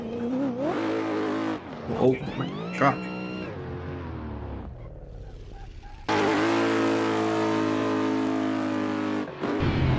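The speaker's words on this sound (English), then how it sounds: "The sound is pretty well done, and everything about the car is actually pretty well done as it is supposed to be in real life." A race car engine in Assetto Corsa revs and climbs through gears, then settles into a loud steady drone, with a brief exclamation from a man over the engine noise.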